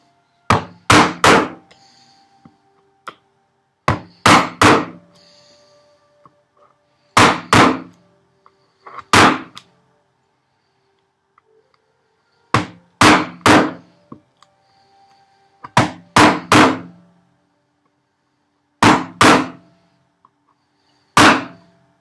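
A mallet strikes a chisel chopping housing dados in wood on a workbench: loud, sharp knocks in spaced clusters of two or three blows, with quiet pauses between groups.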